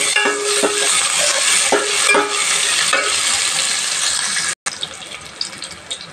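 Fenugreek, onions and curry leaves fry for fish curry in a hot pan, a loud steady sizzle with scraping stirs, then a short gap before the frying resumes.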